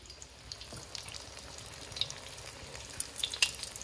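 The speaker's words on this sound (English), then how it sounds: "So really all you're doing is frying the outside." Panko-crumbed, already-cooked pork belly fries in a pan with a steady, quiet sizzle and scattered small crackles and pops, growing a little busier toward the end.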